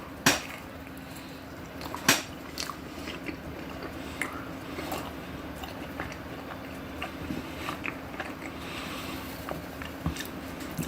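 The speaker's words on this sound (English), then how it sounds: "Let's take this first bite here." Close, soft bites into a slice of Roncadin wood-fired pizza with mozzarella and tomato sauce, undercooked and without crunch: a sharp bite near the start and another about two seconds in, then quiet, wet chewing.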